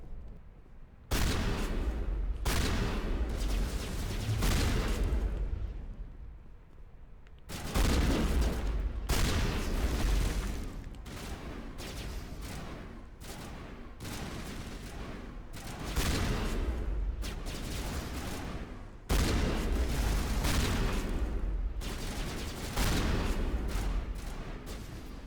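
Heavy, rapid gunfire at zombies in Mass Effect Legendary Edition: long, loud bursts of shots broken by short pauses, repeating for the whole stretch.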